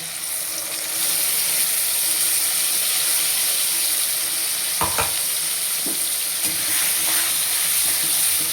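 A pan of potatoes and spice paste of onion, garlic, ginger and tomato sizzles loudly and continuously with a bright hiss, broken by a few scraping stirs of a utensil, close up with no talking.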